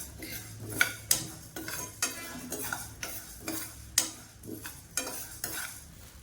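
Urad dal and a couple of cardamom pods dry-roast in a pan, a spatula scraping and stirring in steady rhythmic strokes with sharp metallic clinks at intervals over a soft crackle, close and clear with no talking.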